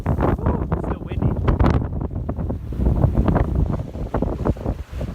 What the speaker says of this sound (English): Woo, it's still windy.